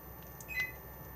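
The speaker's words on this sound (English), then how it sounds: "So one beep armed" One short electronic beep from a caravan alarm fob arming sounds once, fairly faint against a quiet background hum.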